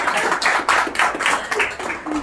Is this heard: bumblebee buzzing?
no